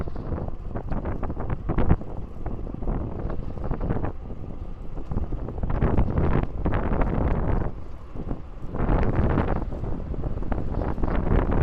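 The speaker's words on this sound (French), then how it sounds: "le bruit du vent, c'est saoulant" Heavy wind buffeting a microphone during an electric bike ride, a loud continuous rumbling roar that surges and eases in gusts with no talking.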